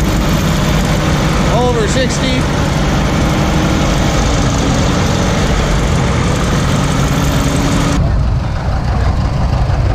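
Antique Deutz tractor engine idling outdoors at a tractor cruise, a loud steady low rumble throughout, with a voice briefly over it.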